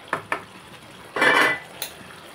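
A metal spoon clinks against a cooking pot as cashew paste goes into a simmering curry: two sharp taps, a brief scraping clatter, then one more light tap, close and alone.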